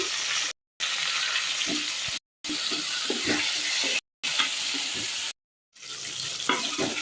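Tomatoes and onions sautéing in a pan for a Sri Lankan fish curry give a steady close sizzle with scattered stirring clinks, broken by several short silent gaps.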